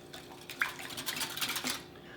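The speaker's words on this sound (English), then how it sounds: "we'll just whisk that up really well" Eggs, milk and cinnamon are whisked briskly in a bowl, a quick run of rhythmic metallic scrapes and clinks, close and moderately loud, with a single sharper tap early on.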